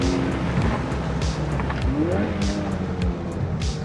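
A Mazda NC Miata laps a race track at speed, its engine droning steadily with gear changes as the tyres squeal through hard braking and a corner, heard from inside the car without talk.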